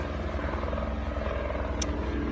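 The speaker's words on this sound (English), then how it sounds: "now there's a helicopter." A low, steady rotor and engine drone of a water bomber helicopter passing overhead, continuous and moderately loud throughout, with a brief high chirp near the end.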